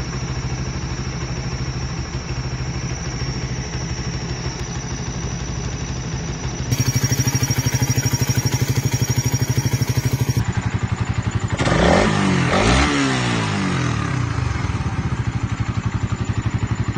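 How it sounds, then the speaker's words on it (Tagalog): A Raider 150 Fi motorcycle engine with a worn water pump seal runs steadily at close range, a thin high whistle riding over the clattering idle, with a brief rev that briefly swells the sound. "unya ing ani nang tingog sa imong motor murag na ay managhoy pareha ani ba?"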